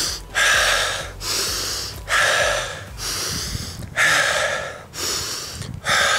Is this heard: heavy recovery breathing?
yes